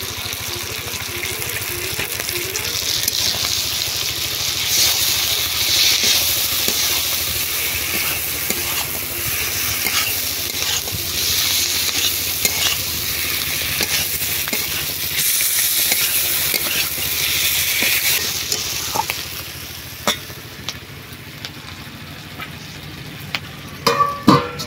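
Dried fish being stirred with cumin paste in a frying pan, a steady loud sizzle with scraping spoon strokes throughout, easing toward the end with a few sharp clinks, no voices.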